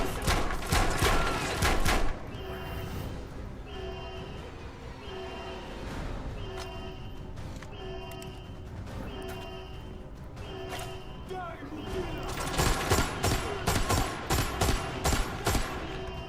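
Gunfire in Metro Awakening VR. Short loud bursts of rapid shots open and close the passage, with a quieter stretch of thumps and tonal game sounds between them.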